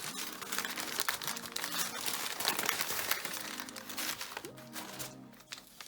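Paper wrapping around a mailed book crinkles and crumples steadily as it is unwrapped, close and fairly loud, with rustling and tearing throughout.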